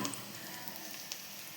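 Sliced onions fry in a pan for prawn korma, giving a soft, steady sizzle that stays constant and fairly faint, with no talk.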